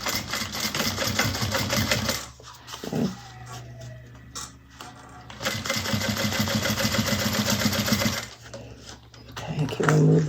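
A sewing machine back stitches down the side seam of a Scottie convertible bag, running in loud, rapid bursts close up, with a quieter pause in the middle before stitching resumes, and no speech.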